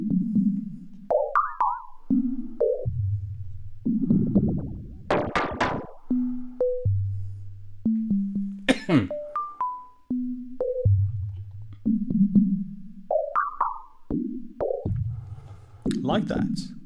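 A Mutable Instruments Plaits Eurorack synth module plays a sine-wave based model, a series of short, clean tones stepping between pitches with quick pitch sweeps and plucky blips, closely recorded with no talk.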